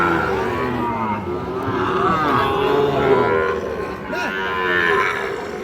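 Sahiwal breed bull calves at a cattle market moo loudly and close, with long drawn-out calls overlapping over the market murmur.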